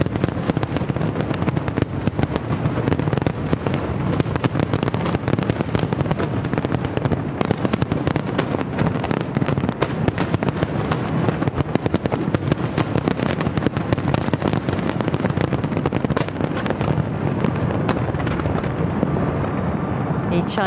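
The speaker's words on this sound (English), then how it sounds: "Let's have a little listen in to the firework display if we can." A New Year's Eve fireworks display over the Chao Phraya River in Bangkok, Thailand, crackles and booms continuously with dense rapid bursts, loud and sustained through the whole stretch, heard from a distance.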